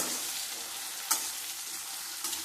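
Tomatoes frying with shallots and drumstick in oil, a steady close sizzle with a brief clatter of stirring midway and another near the end.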